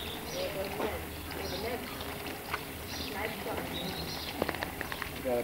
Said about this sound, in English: We hear the clippity-clops